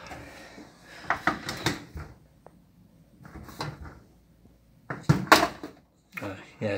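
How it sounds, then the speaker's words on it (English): A Servis Quartz MK600 washing machine door is shut, giving a few close knocks and a firm latching thump amid handling clatter, with a person speaking quietly nearby. "And we're gonna close the door."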